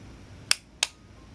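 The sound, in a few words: Olympus XA camera shutter firing at slow speed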